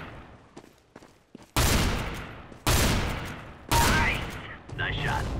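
Gunfire in Counter-Strike: Global Offensive, with three loud, sharp bursts a second apart, each one decaying quickly, followed by a fourth weaker burst. Softer clicks and a voice come before them.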